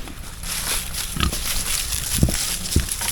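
A pig grunts on a cold winter homestead, with a few short, low snorts breaking through a steady hiss of background noise.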